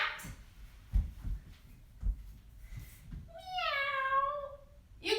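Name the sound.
children imitating a cat meowing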